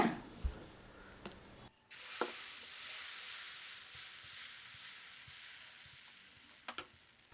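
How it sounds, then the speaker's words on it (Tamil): Banana flower dosa batter is poured onto a hot griddle and breaks into a sudden, sustained hissing sizzle. The close, steady frying continues after a few faint knocks. "தோசை ஊற்றிக்கலாம்"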